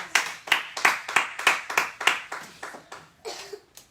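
A church congregation clapping in a rhythmic, evenly spaced beat, about ten sharp claps close by that fade toward the end.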